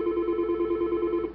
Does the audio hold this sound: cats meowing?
no